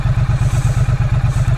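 A 2017 Triumph Street Cup motorcycle engine idles close by at about 1,000 rpm, a low, lumpy pulsing beat that repeats steadily with faint mechanical clatter on top.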